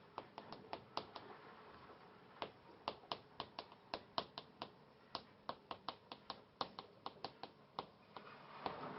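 Writing a title on a board during a classroom-style lesson: quick, light taps and clicks from the writing tool striking the surface, about thirty of them in an uneven steady run, quiet and close.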